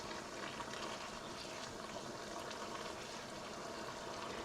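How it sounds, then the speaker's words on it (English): Thai red curry sauce spooned over haddock in a pan: a faint, steady wet bubbling and sizzling hiss that runs evenly throughout with no talk. "I'm just going to take a spoon and ladle over some of that beautiful sauce"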